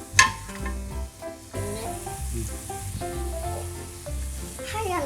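Doughnuts sizzle and crackle steadily in hot oil, with a sharp clatter at the start and music playing softly underneath.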